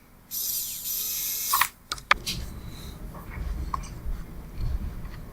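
A screw is driven into the plastic case of a USB Ninja remote control: a buzzing whir for over a second, then several sharp clicks and a scattering of faint handling noises.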